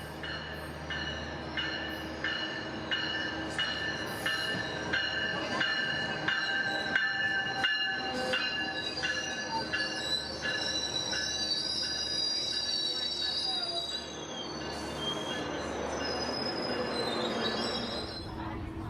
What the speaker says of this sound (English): Here comes our train to Los Angeles.